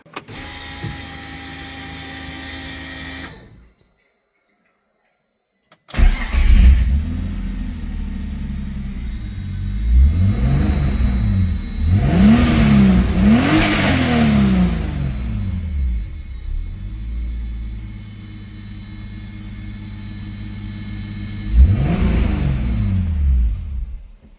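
Turbocharged BMW E46 with an M54B30 six-cylinder runs in a workshop after a fresh filter, engine sound cutting out briefly, then idling with a steady rumble and rising in several swelling revs, close and loud.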